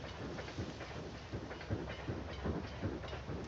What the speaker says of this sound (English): We're just going to watch our first train.